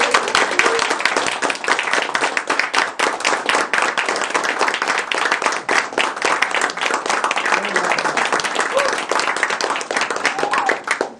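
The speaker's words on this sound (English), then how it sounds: "let's all stand up together and give applause that's so loud that our brother club, Talk the Line, can hear it all the way to Soledad" A standing audience at a club meeting claps loudly and continuously, dense rapid hand claps sustained for the whole stretch.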